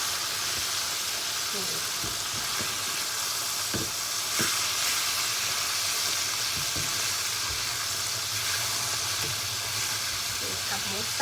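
Pork belly deep-frying in fish sauce until crisp outside and tender inside, making a loud, continuous sizzling hiss with scattered pops and crackles throughout.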